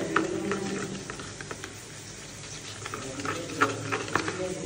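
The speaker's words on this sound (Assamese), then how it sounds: "মছলাখিনি গুলি দিওঁ" A spoon scrapes and stirs masala spices in a cooking pan, with soft irregular scraping and a faint sizzle running steadily close by, fairly quiet throughout.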